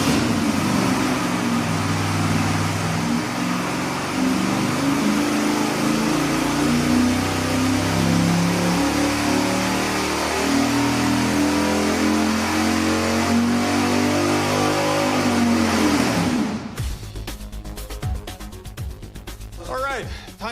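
Car engine with a stock exhaust manifold running on a dyno, a loud sustained roar that climbs steadily in pitch as it revs up, then cuts off abruptly near the end, followed by clatter and voices.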